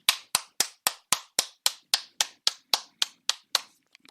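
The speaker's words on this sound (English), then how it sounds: "Clapping for her." About fourteen sharp hand claps at a steady, even pace, a single clapper close and clear, then silence.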